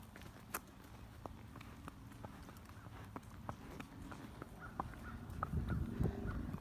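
Hooves of a ridden horse walking outdoors on hilly ground, a steady clip-clop of distinct footfalls at an even pace, fairly close, with faint background noise and no talk.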